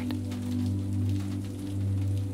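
Rain falls steadily on a rainy night in Manhattan, a soft continuous wash over a low, even hum that swells gently and fades.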